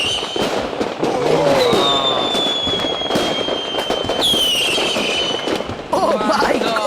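A large fireworks show goes off all at once, a dense barrage of bangs, crackles and whistling rockets with a crowd and voices audible beneath.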